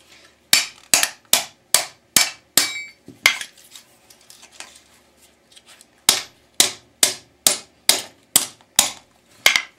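A hammer strikes a chisel set against a speaker magnet to split it from its base, in two runs of sharp, loud metallic blows separated by a brief quieter pause.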